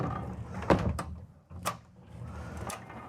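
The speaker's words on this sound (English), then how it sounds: "you've got a nice privacy door here" A bedroom privacy door in a 2024 Renegade XL X45BBC motorhome slides along its track with a soft rumble and a couple of light knocks and clicks, close by and fairly quiet, with no talking.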